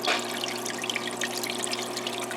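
Small aquarium waterfall in a red clawed crab tank, set to about half flow, gives a steady close trickling splash of running water with no voices.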